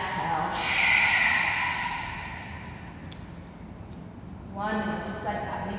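A yoga breathing exercise brings a long, audible exhale that swells and fades, then another breath begins near the end, all close and soft under a gentle spoken instructor's voice.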